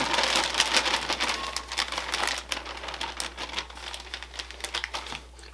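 Coleslaw mix being combined with sliced onion and vinegar by hand: dense crinkling, rustling shreds of cabbage tossed and pressed, close and continuous with dry crackly bursts.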